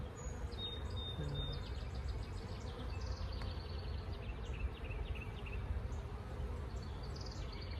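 A low, steady buzz of many bees inside a split hive being fed liquid feed fills the clip, with faint bird chirps and tweets overhead.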